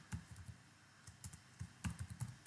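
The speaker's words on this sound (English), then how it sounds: "I'll just type it here" Fingers tapping keys on a computer keyboard in short irregular bursts, close and soft, clicks clustering into quick groups with pauses between.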